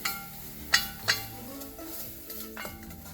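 A spoon scrapes and clinks against a pan while melting sugar with lemon juice is stirred, giving a few sharp metallic taps over a quiet, faint background.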